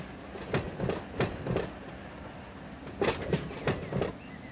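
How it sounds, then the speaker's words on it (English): A reefer railcar's refrigeration unit runs in the Run 8 train simulator, a steady mechanical hum under repeated clicking rail-wheel clatter from cars rolling past, moderately close with no talk. "Reefer, you can hear its refrigeration unit running."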